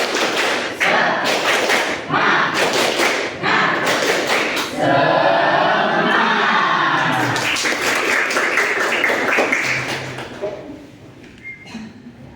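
A classroom group does a rhythmic tepuk semangat clap, loud close bursts of patterned claps and thumps in a steady beat, with voices chanting along and the sound tapering off at the end.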